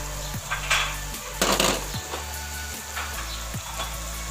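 Chicken fries and sizzles in a karahi pan, a steady close hiss broken by a few scraping stirs and light clinks of a utensil against the metal.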